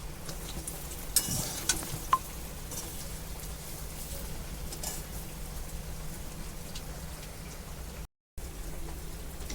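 Gram flour fritters frying in oil as they are turned over, a steady soft sizzle with a few light clinks and taps early on, heard close with no talking.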